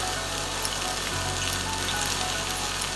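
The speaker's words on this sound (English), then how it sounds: "While we saute the spinach," Spinach sautés in a pan with a constant, dense sizzle and crackle. The frying sound is close and steady throughout the few seconds.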